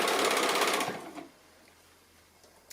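A sewing machine stitching a tight curve on a small fabric pin cushion, a fast, even run of stitches for about a second that then stops, leaving near silence.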